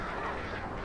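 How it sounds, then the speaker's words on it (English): Attacking birds in the Alan Wake video game let out a dense, loud burst of flapping and squawking, a short noisy rush with no pause. "Birds."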